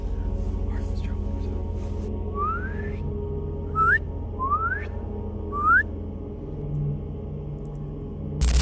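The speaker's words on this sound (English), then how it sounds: "a distant whistle echoing through the dark" At night in the woods, a far-off whistle sounds four times. Each note is short and rises in pitch, heard faintly over a low background rumble.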